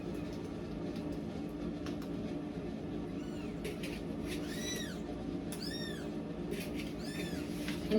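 Several high, thin meows from tiny hungry kittens in quick bursts, close but soft, over a steady low hum with no talking.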